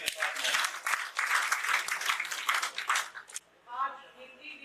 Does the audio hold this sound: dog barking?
no